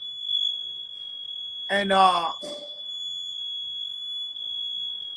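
Smoke detector alarm sounding as a steady high-pitched tone throughout, loud and continuous, with someone briefly speaking over it midway.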